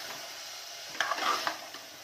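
White chana being stirred into masala and ghee in a pan over full flame, quiet sizzling under a few soft spoon scrapes and clicks.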